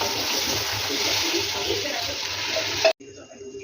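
Water poured from a cup into a pot of rice on the stove, a steady splashing stream that runs for about three seconds and then stops abruptly, leaving quieter kitchen sounds.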